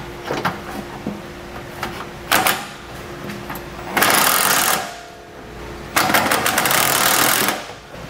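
Power tool, probably an impact or drill driver, tightening trailer hitch fasteners from below a 2017 Mercedes-Benz while fitting a Curt receiver; several short whirring bursts, then two longer loud runs, close by and with no talk.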